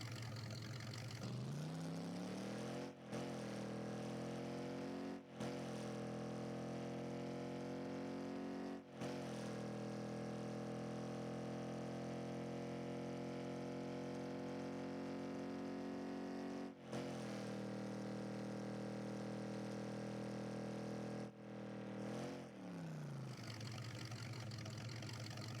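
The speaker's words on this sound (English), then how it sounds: "And here is the engine sound." Beefy, deep engine of the Fast and Furious Ice Charger car in Rocket League, idling and revving in steady drones with brief dips between rises, loud and close, no talking.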